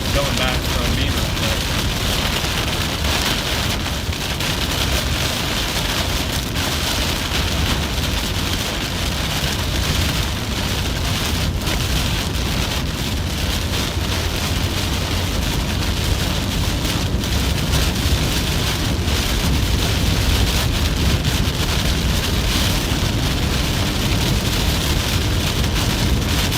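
Heavy rain pours during a storm in steady, dense hiss and patter, loud and continuous throughout.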